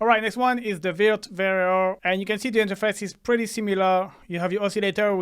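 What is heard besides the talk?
No everyday noises stand out.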